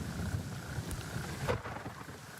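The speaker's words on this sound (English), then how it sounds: "the thunder is awesome" Heavy rain hisses steadily with low rumbling thunder rolling underneath in a jungle warfare game setting, dense and continuous with no voices.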